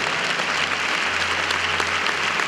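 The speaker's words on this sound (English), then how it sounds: "you should clap your hands and thank God" A church congregation at a Sunday service clapping their hands, dense steady applause sustained throughout with a faint low hum beneath.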